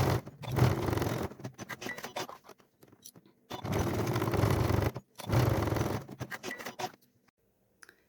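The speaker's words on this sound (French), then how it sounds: "on va coudre à 1 mm des deux bords là" A sewing machine stitches 1 mm from both edges of a strap in three bursts of fast, rattling whir separated by short pauses, fairly close and alone.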